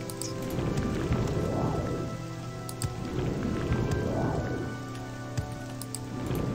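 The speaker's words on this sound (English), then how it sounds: "It's raining." Rain falling steadily in the video game Morrowind, a constant hiss of drops over a low rumble, with no talk heard.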